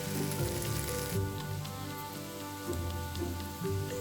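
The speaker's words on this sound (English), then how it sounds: "Snip them straight into a hot pan and let them sizzle until golden and" Bacon slices sizzle and crackle steadily in a hot pan, a dense, close frying hiss with no talking over it.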